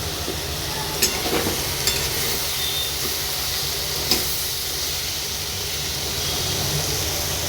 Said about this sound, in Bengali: এই পেস্টটা এর মধ্যে আমি দিয়ে দেবো, দিয়ে 2-3 মিনিটের মতো নাড়বো, নেড়ে নেবো